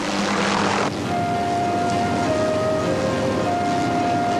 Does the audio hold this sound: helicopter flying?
yes